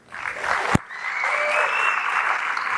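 A lecture-hall audience at a university debate on evolution breaks into loud, sustained applause that swells and holds steady, close and full, with a brief voice at the start.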